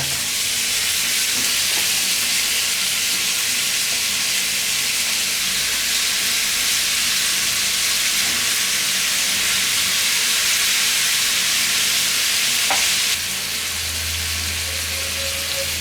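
Peri peri chicken fries in a pan with a loud, steady sizzle and hiss, broken by a brief clink near the end before a lower hum takes over.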